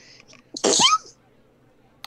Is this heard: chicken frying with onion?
no